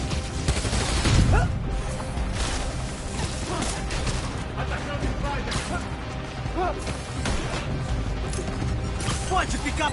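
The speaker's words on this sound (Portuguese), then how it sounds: "Atirando!" Gunfire and crashing impacts in the PS4 game Spider-Man: Miles Morales, bursts of shots and smashes in quick succession under excited talking, loud and busy from start to finish.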